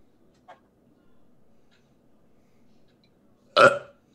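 A voice imitates a burp: one short, loud, guttural belch after a quiet pause, preceded by a faint small sound.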